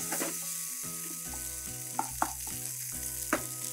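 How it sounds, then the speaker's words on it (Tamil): Tomato, ginger, garlic and green chilli sautéing in a pan for a Tamil aloo bhaji, a steady close sizzle with a few sharp stirring clicks and a low tonal hum underneath. "இந்த தக்காளி இஞ்சி பூண்டு பச்சை மிளகாய் இது எல்லாத்தையும் போட்டு நல்லா அப்படி வதக்க ஆரம்பிக்கிறோம்."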